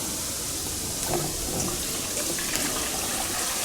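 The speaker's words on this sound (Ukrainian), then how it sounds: "набираємо води" Water rushes steadily into a sprayer tank, a continuous close hiss and splash that stays even throughout.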